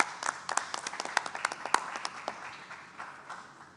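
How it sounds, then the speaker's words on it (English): Light, scattered clapping from a small group greets National Guard members at a governor's COVID-19 briefing, with distinct individual claps that thin out and fade over a few seconds. "Let's give them a round of applause."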